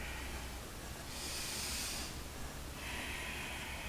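Slow, deep yoga breathing during an Ashtanga vinyasa hip-opening routine, two long airy breaths in and out, close and steady over a low background hum with no talking.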